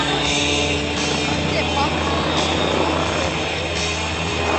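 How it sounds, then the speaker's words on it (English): A Red Bull aerobatic helicopter roars loudly and continuously overhead while performing a roll, its rotor drone and engine whine steady throughout while a voice talks over it. "Look at this beautiful roll. No normal helicopter could do these aerobatics."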